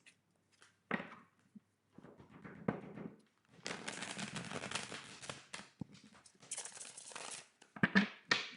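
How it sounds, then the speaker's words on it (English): Tarot cards are shuffled by hand in a series of soft, papery riffles and slides, quiet and close, broken by short pauses and taps. "One more shuffle, Aquarius."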